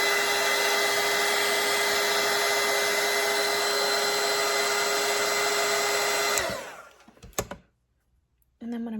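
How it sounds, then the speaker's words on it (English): A handheld dryer blowing steadily on watercolour paint, a loud, even whirring hum that runs for about six seconds, then cuts off and winds down, followed by a few faint clicks and handling sounds. "Okay, so I'm gonna let this dry with my dryer."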